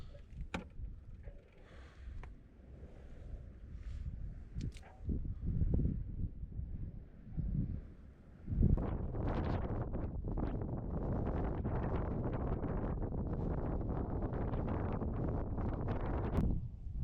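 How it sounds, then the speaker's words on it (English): Strong gusting wind buffets the microphone on an exposed Lake District fell ridge near Common Fell, a roaring broadband rush that eases briefly and then blows hard and steady through the second half. "The wind's just brutal once again."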